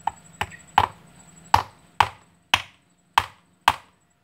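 A hammer tapping on a stingless bee hive, eight sharp, close knocks spaced unevenly about half a second apart, each ringing briefly, with no voices.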